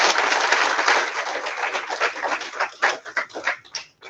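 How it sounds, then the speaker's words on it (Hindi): An audience applauds at an event at the national institute for the visually handicapped on Rajpur Road, with dense, close clapping that thins into a few separate claps before stopping. "तन्मय सर के लिए एक बार तालियां बजा देते हैं"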